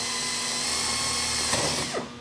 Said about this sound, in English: I'm going to drill this one in the center